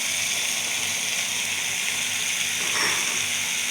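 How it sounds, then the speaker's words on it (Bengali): A small splash of water poured into a cooking pot of tomato paste and spices for aloo dum, a soft hiss with a brief gush near the end, no voices. "দিয়ে দিচ্ছি সামান্য জল"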